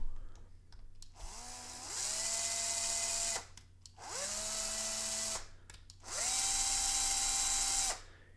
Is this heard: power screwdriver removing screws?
yes